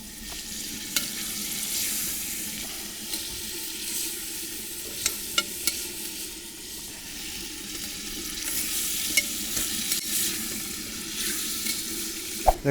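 Meat sizzling in hot oil for plov, a steady frying hiss with scattered pops and occasional clinks of a utensil stirring the pan, close and fairly quiet.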